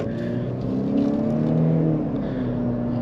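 A 2022 Honda CR-V Touring Hybrid accelerates at full throttle, its engine note a steady, continuous drone that rises slightly in pitch, heard from inside the cabin with road noise.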